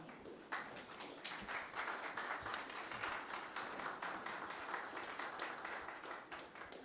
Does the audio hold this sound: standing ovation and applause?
yes